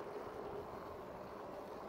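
Wind blows across an open outdoor area at a newly developed plot of land, a soft, steady rushing buffet on the microphone with no voices over it.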